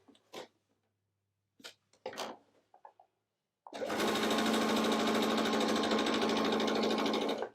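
After a few soft handling clicks and rustles, a sewing machine starts up and runs a quarter-inch seam on strip-pieced quilt pieces, a close, loud, steady whir lasting several seconds.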